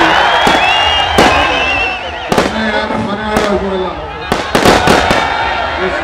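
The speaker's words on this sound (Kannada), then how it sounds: "ನಡೆದಂತಹ ಕಾರ್ಯಕ್ರಮದಲ್ಲಿ ಅಭಿಮಾನಿಗಳು ಪಟಾಕಿ ಸಿಡಿಸುವಾಗ ಮುಖ್ಯಮಂತ್ರಿ ಡಿಕೆ ಶಿವಕುಮಾರ್ ಸಿಟ್ಟಾದಂತಹ ಪ್ರಸಂಗ ಕೂಡ ನಡೆಯಿತು." Firecrackers set off by fans at a political rally go off in sharp, loud bursts, several cracks clustered near the end, over crowd noise, cheering and people talking.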